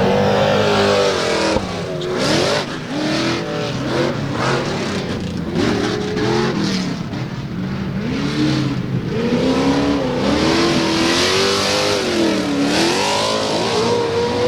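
A loud Pro 2 short course off-road race truck engine roars continuously at a fairgrounds race, its pitch rising and falling as it revs and accelerates nearby, with no pauses throughout.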